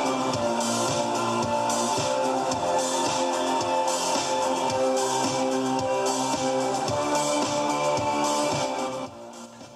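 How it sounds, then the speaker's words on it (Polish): Loud music from the stereo of a 2014 Renault Clio Grandtour GT with bass boosted, heavy pounding bass and a steady beat playing continuously, full and boomy, then dropping in level near the end. "po podbiciu tonów niskich naprawdę zaczyna tutaj być dosyć tak przyjemnie"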